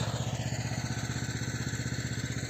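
A small tractor engine runs steadily in a farm field prepared for potato planting, its rapid, even throb continuing close and loud with no speech.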